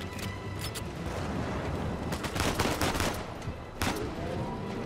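Rapid gunfire from Uncharted 4 on hard difficulty, dense overlapping bursts of shots and impacts layered over a constant roar of game noise, with a heavier cluster of shots near the middle and a sharp crack toward the end.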